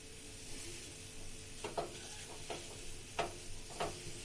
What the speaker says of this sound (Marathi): आपण याच्यात छान असं भाजून घेऊया